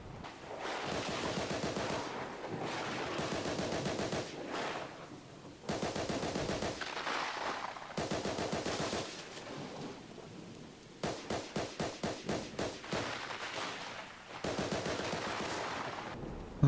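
Bursts of gunfire in ARK Ascended while taming a demonic rock golem, long rattling volleys separated by short pauses, then a run of rapid evenly spaced single shots, loud and without talk.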